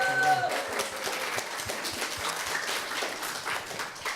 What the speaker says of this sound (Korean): 다시 한번 지금까지 강연해 주신 홍덕호 선수의 큰 박수 부탁드리겠습니다